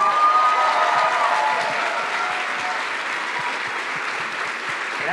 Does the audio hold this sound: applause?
yes